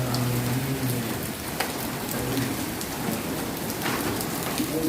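Steady rain pours down during a thunderstorm, a dense, continuous patter on surfaces filling the whole stretch with no voices.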